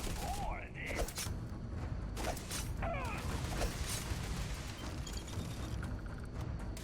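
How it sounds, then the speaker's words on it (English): Grenade and combat noise in the space game Starfield: several sharp broadband bursts and clattering mechanical effects over a steady din, with game tones chirping and a voice faintly underneath. "Oh, okay, I hear a grenade."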